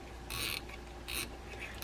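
Drag adjuster knob being tightened on a Penn SpinFisher VI 8500 spinning reel, two short close bursts of ratcheting clicks separated by a pause.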